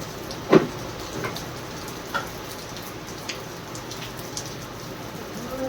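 Scattered raindrops tap irregularly against a surface, with one sharper knock early on, over a steady soft background hiss.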